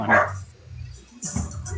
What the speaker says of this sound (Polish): bo psy nam tutaj szczekają obok